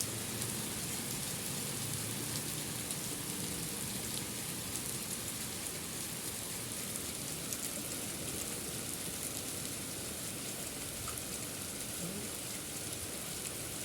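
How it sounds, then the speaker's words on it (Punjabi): Continuous steady rainfall pattering on surfaces, even and unbroken throughout, fairly soft with no voices. "ਜਦੋਂ ਮੀਂਹ ਰੁਕੂਗਾ ਫੇਰ ਮੀਂਹ ਰੁਕਣ ਦੀ ਉਡੀਕ ਕਰ ਰਹੀ ਹੈ"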